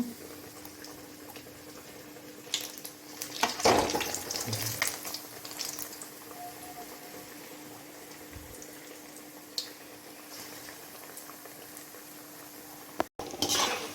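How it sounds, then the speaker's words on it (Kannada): Batter-coated sweet potato slices hiss and bubble as they fry in hot coconut oil, with a louder burst as a piece drops in, then a softer, steady sizzle and occasional clinks of utensils. "ಅದಕ್ಕೆ ಒಂದೊಂದೇ ಗೆಣಸನ್ನು ಹಾಕಿ ಮಿಕ್ಸ್ ಮಾಡಿ ಎಣ್ಣೆಗೆ ಬಿಡ್ತಾಯಿದ್ದೀನಿ"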